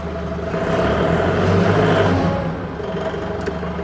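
An OCTANE FD25BCS 5,500 lb diesel forklift drives off under steady engine drone, a low continuous rumble that swells slightly mid-way and eases again, close by with no talk.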